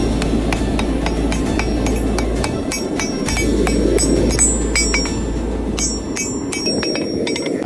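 Hand hammer blows ring out steadily on a Damascus steel billet being forged for a ladder-pattern chef's knife, sharp metallic strikes in a fast regular rhythm over a continuous low forge roar, close and loud.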